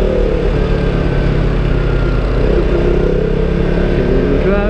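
A KTM RC 200 motorcycle accelerating gently on the road, its engine holding a steady, loud, buzzing drone with smooth rising tone heard close from the rider's position, continuous throughout without pauses.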